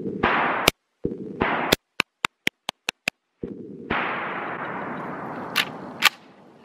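A firearm quieter and with less kick than a Draco fires several sharp single shots in an evenly paced string, then a couple more later, cutting through steady background hiss with no speech.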